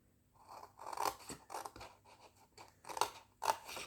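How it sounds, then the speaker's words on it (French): Scissors cutting paper to make an advent calendar box, a series of close, crisp snips in irregular bursts, some quick doubles, separated by brief quiet. "Donc on va venir couper en bas les 3 qui sont là."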